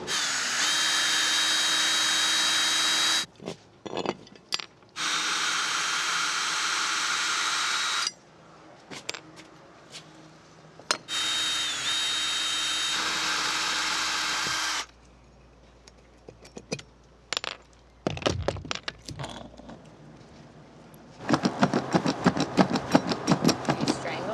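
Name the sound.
power drill removing screws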